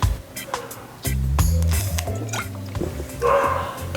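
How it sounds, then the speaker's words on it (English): Dogs barking excitedly indoors at a delivery arrival, a burst of sharp barks and scuffling close by with clattering household noise, loud and irregular. "it sounds like there's a delivery here. The dogs are going nuts."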